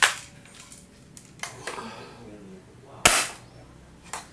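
Spring-powered D'Cobra M802 airsoft sniper rifle firing 0.2 g 6 mm BBs through a chronograph, giving several sharp close cracks and clacks, one strong snap standing out near the end with lighter mechanical clicks around it.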